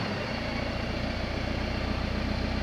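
A Hyundai forklift with a torque converter runs its engine steadily on a hill start up a slope, a constant mid-pitched drone at moderate level with no one talking.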